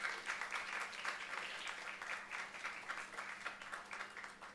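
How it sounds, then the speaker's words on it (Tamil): Audience at a church feast Mass clapping, a steady, fairly faint wash of many hands applauding throughout with no pause. "ஜோரா கைத்தட்டுங்க"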